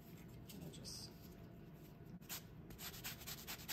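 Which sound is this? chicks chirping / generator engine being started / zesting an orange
zesting an orange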